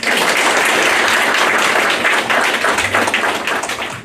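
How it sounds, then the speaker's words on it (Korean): Loud, thick applause from a gathered crowd at an outdoor memorial-stone unveiling ceremony in 2017, continuous and even throughout with no voices on top. "여러분 큰 박수 부탁드리겠습니다"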